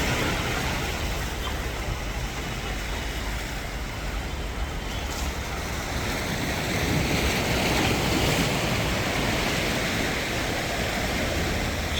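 Steady sea waves at a beach in Alexandria rush and wash continuously, with a broad roar of surf mixed with wind buffeting the microphone and a slight swell in loudness midway.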